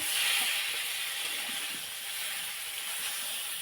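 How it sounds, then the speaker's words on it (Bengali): Fish frying in hot oil in a home kitchen gives off a steady, close hiss and sizzle that holds evenly throughout, with no talking. "তো ভালো করে ভাজছি।"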